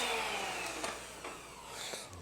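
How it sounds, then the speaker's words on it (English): A Dirt Devil Royal Platinum Force upright vacuum runs with its brush roll motor spinning, a continuous loud whirring drone that wavers slightly and holds steady for the whole stretch with no voices. "brush roll motor works fine"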